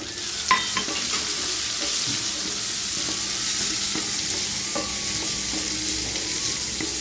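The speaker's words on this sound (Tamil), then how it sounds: "வெங்காயம் நல்லா வதங்கி வரட்டும்" Onion frying in a pan with cashews while being stirred: a steady close sizzle runs throughout, with occasional louder scraping knocks of the spoon against the pan, and no voices.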